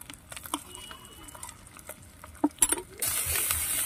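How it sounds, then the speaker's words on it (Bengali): Spice paste frying in oil in a pan gives a faint, sparse sizzle with scattered spoon taps early on. The sizzle swells into a louder, steady hiss over the last second, all close and without voices. "সব মশলাটা খুব ভালোভাবে মিশিয়ে একটু ভেজে নিচ্ছি কিছু সময়"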